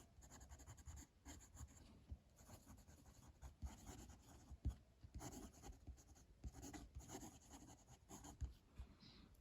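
Fountain pen with a medium nib, a Eureka Asymmetry diamond dodecagon loaded with Diamine Sherwood Green ink, scratching steadily across paper in close, quiet, continuous strokes with short pauses between words.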